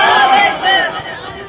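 A crowd chants slogans together at a religious sermon gathering, a loud, sustained mass of voices that rises and falls across the whole moment.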